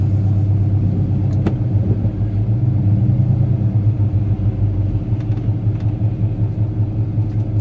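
A car engine idles loudly and steadily right after an engine rebuild, with a dense low rumble and a faint mechanical rattle that point to a suspected hydraulic tappet fault, and no voices over it.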